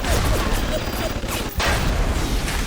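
Hacked turrets fire sustained gunfire in the video game Bioshock, a dense, loud continuous barrage with a brief dip near the middle before the shooting resumes.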